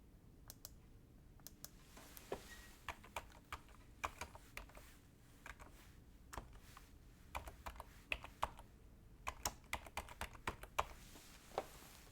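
Keys clatter on a computer keyboard in irregular bursts of quick clicks with short pauses, close by and fairly quiet over a low background hum.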